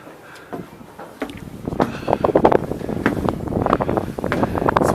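Gusty wind at Petřín Lookout Tower buffets the microphone in rough, uneven rumbling bursts that build after a quieter start and keep roaring to the end.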